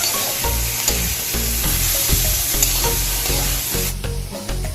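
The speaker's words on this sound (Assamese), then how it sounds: "এইখিনি ফ্ৰাই কৰি লওঁ।" Chicken filling for homemade chicken rolls fries in a pan with a steady, loud sizzle, punctuated by repeated stirring scrapes and clinks throughout, with the sizzle easing slightly near the end.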